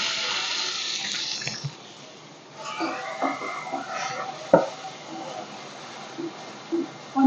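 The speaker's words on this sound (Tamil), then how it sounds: "கொஞ்சம் தண்ணி ஊத்திக்கலாம்." Water is poured into a pan of soya gravy in a home kitchen, a soft splashing trickle with gentle clinks and stirring knocks, fairly close and quiet.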